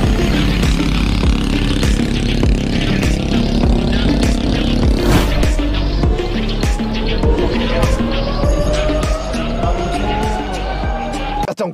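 The tiny engine of a Shell Eco-marathon race car at the 2024 event buzzes close and loud, its pitch rising steadily as it revs, with sharp clattering pops and a voice talking over it.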